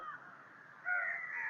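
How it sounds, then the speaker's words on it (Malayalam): Crows perched in trees along a riverbank caw in drawn-out, moderately distant calls, one rising louder near the end, with no voices. "കാക്കകളുടെ സൗണ്ട് നിങ്ങൾക്ക് കേൾക്കാം"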